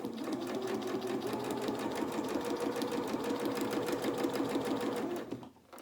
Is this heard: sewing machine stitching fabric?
yes